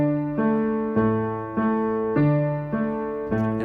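Solo piano plays the closing phrase of a song, six evenly spaced sustained chords struck one after another, each decaying before the next, clear and close with no voice.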